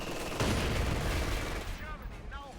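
MG-42 machine guns fire in Company of Heroes 2, a dense, continuous rattle of rapid bursts filling the clip under the battlefield din, easing slightly toward the end.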